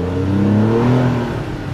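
An enclosed cab UTV engine from CFMoto, Polaris, Can-Am or Kawasaki accelerates with a steady, rising whine that climbs in pitch over under two seconds, heard close from inside the cab.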